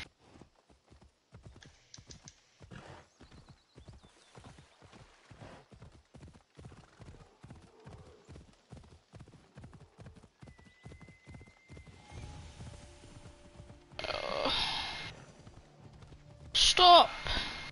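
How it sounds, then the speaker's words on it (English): Rhythmic clip-clop of a horse galloping in Assassin's Creed Odyssey, steady hoofbeats running through most of the stretch with a whinny and louder game effects near the end, someone talking over it at times. "You can jump really far on the horse."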